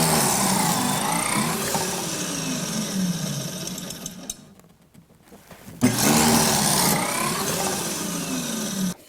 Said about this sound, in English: so I know exactly where to drill my pocket holes.